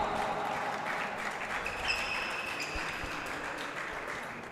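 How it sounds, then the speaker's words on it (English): Crowd at a men's singles racquetball semifinal gives steady, sustained applause, a dense wash of clapping that holds evenly throughout, with faint squeaks and bounces underneath. "Big applause from the crowd."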